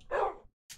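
Two quick dog barks from the Minecraft video game, PlayStation 4 edition: a fuller yap followed after a short pause by a thinner, higher one, fairly quiet with no talk.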